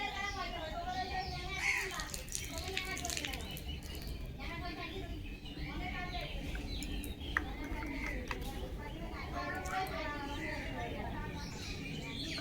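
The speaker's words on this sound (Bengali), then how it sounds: "চারিপাশে দেখো পাখি ডাকছে।" Birds chirp and call repeatedly in the afternoon around a mango tree, moderately close, mixed with a voice talking.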